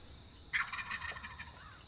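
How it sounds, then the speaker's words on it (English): Wild turkey gobbles once at daybreak in South Florida, a single rattling call that starts abruptly and trails off, heard at a distance over a faint steady background hiss. "the turkey got plenty fired up"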